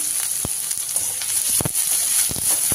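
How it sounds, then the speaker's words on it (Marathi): Finely chopped onion, added after garlic has browned, fries in a pan with a steady close sizzle and scattered sharp pops and scrapes of stirring. "कांदा व्यवस्थित आपल्याला 1 ते 2 मिनिट लालसर होईपर्यंत तळून घ्यायचा आहे"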